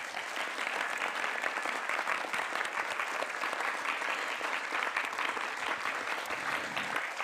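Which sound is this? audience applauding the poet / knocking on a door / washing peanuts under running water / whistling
audience applauding the poet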